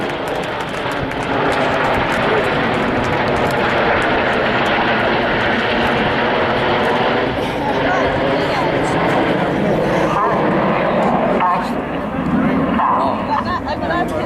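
Display aircraft flying the Eagle Roll at the Waddington air show roar overhead in a loud, sustained engine rumble that fills the whole stretch, with crowd noise and a faint dog bark in the background.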